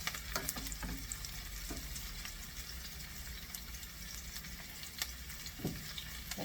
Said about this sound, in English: Now you're cooking this just until the shallot is softened